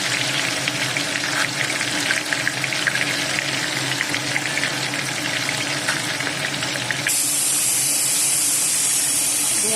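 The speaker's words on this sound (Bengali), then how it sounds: "গরম হয়ে গেছিলো, মাথাটা আগে ভেজে নেব।" Spice-coated fish head frying in hot oil for fish kebab, a steady loud sizzle and crackle running throughout with a brighter hiss in the final seconds.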